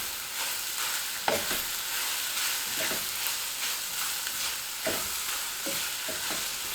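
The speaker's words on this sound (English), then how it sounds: "Stir these around." Spinach and vegetables sizzle in a frying pan while a utensil stirs them, with repeated soft scrapes and taps over a steady hiss.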